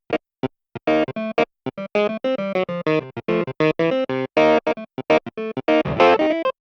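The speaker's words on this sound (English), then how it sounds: "Here, the clavinet is kind of accentuating the bass guitar part." Funky clavinet line, punchy staccato keyboard stabs with a bright, guitar-like bite, closely tracking the bass guitar in a busy rhythmic pattern, loud and up front with no talking.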